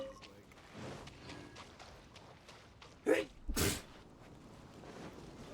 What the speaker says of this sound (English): This is actually the first time I really sneezed on camera.